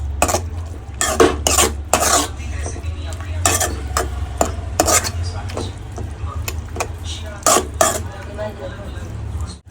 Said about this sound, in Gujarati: હવે આપણે બધા મસાલાને એક રસ કરી નાખીએ